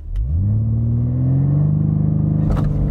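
Close, loud engine note of a BMW M3 Touring launching hard on wet pavement with traction control off, pitch climbing smoothly through one gear before a brief shift blip near the end.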